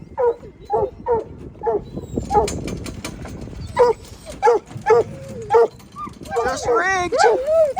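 Hunting dogs rigged up for a bear hunt bark in quick, sharp yips and whine in rising, wavering cries, close and excited, with brief pauses between outbursts.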